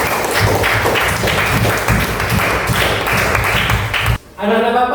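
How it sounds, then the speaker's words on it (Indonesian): A classroom of pupils claps in applause for one of their classmates, a dense burst of many hands close by that stops abruptly, after which a voice speaks. "Kasih aplaus yang kamu."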